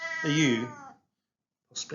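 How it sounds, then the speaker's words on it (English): A Siamese cat lets out one drawn-out, close meow, followed by a brief pause and then the start of another cry, with a person speaking softly around it. "If you can hear a meowing, it's not me, it's my Siamese cat."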